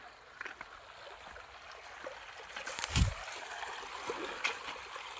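Irrigation water runs through a field channel on a groundnut farm, a soft trickling flow with scattered splashes and one louder surge midway.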